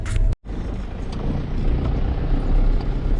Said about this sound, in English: Got to back the truck in the shed